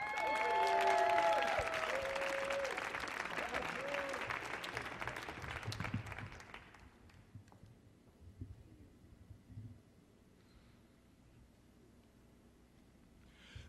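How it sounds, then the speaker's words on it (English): Audience at a youth poetry showcase applauds a poet on stage, a dense, loud wash of clapping with a few whoops that gradually thins and fades out over several seconds, leaving scattered claps and quiet room tone. "let's give a big, big warm round of applause for a wonderful, talented poet"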